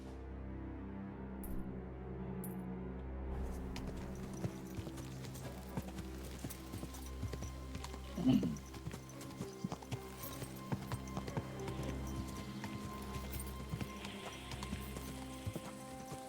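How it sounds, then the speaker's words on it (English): Horse hooves clip-clop steadily while riding in Kingdom Come: Deliverance II, a continuous rhythmic trot over ambient game sound, with a brief whinny-like burst midway. "Riding a horse has a very pleasing sound."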